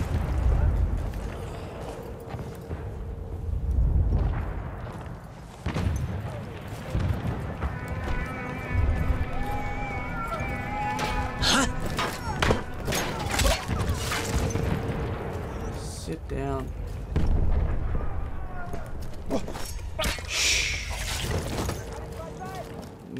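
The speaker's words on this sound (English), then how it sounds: "Gunfire." Battlefield 1 combat mixes booming artillery blasts and sharp bursts of gunfire, some close and some distant, with a horse clopping and engine-like drones underneath.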